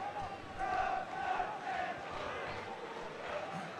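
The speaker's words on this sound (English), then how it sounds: "The crowd willing Borough to get in front and ease some of the tension." Football stadium crowd at a Middlesbrough match, a steady, dense roar of many voices with swelling chants and shouts rising and falling throughout, continuous and fairly distant.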